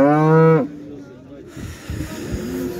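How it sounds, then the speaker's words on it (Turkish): A cow at a livestock market gives one loud, close moo. Then comes a mix of crowd and animal noise, with people talking nearby. "Burada inekler var arkadaşlar"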